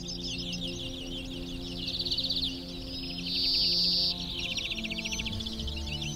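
Migrating birds from northern Europe calling over the coast at Matalascañas, a steady layer of chirps and tweets with louder bursts, set over a constant low hum.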